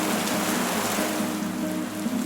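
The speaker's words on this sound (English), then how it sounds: "The rhythmic sound of raindrops sets a somber tone as they gently strike the pavement." Steady rain falls on city pavement in Mexico City, a continuous dense hiss of drops striking the street, even and constant throughout with no voices.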